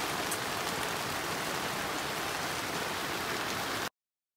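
Heavy rain pours steadily onto a camping tent at a lakeside park at Jirisan, a dense, loud, unbroken hiss of drops that stops abruptly near the end.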